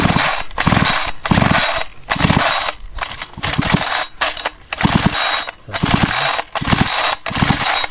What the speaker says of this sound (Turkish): Söktüğümüz vidaları tekrardan yerine takıyoruz.